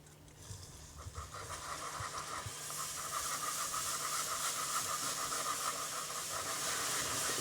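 Cream poured into a hot pan and whisked, giving a rising, steady hissing bubble and sizzle that grows louder and fills the scene, close and continuous with no talk.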